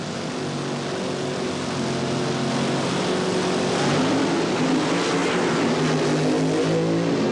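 Drag racing cars at the 1977 NHRA Springnationals run down the quarter mile at over 200 mph, a loud, steady engine roar that holds throughout and swells slightly as they pass.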